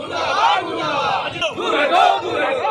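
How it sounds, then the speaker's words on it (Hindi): A crowd chants slogans loudly during a protest effigy burning in Asansol, with many voices shouting together in rhythmic, rising bursts close by. "पुतला दहन के समय खूब नारेबाजी भी की गई"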